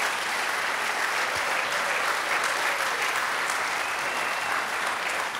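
A crowd at a fair opening applauds a brass band, a dense, steady wash of clapping that holds evenly for several seconds.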